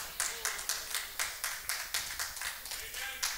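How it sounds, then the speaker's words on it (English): A run of sharp hand claps in a steady rhythm, about a dozen crisp claps, close and fairly loud, with a voice murmuring faintly underneath. "Three claps."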